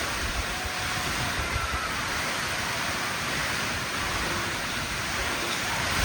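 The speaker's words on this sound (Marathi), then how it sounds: "जिकडं बघल तिकडं पाऊसच आहे." Heavy monsoon cloudburst rain pouring down in Lotewadi village, a dense, steady roar of rainfall that stays loud and unbroken throughout, with no voices.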